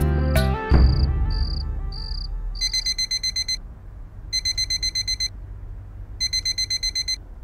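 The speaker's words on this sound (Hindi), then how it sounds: "क्या सुबह सुबह अलार्म लगा दिया?" A morning alarm clock goes off with bursts of rapid, shrill electronic beeping, repeating in regular clusters after a brief thump and a few sustained tones, loud and close with no talking.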